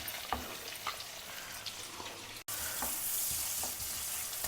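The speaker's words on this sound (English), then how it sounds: "Saute the onions well in the oil." Sliced onions sautéing in butter and oil with cumin seeds, giving a steady hissing sizzle with occasional scrape and stir knocks, close up. The sizzle briefly drops out and then returns louder and brighter.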